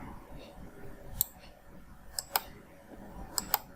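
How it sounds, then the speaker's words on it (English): A computer mouse being right-clicked while someone works in simulation software, giving a handful of sharp, brief clicks spread unevenly over a quiet room background. "So right click,"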